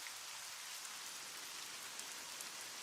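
Steady rainfall in The Witcher 2: Assassins of Kings, a dense, even hiss of drops on surfaces with no voices, soft and continuous from start to end.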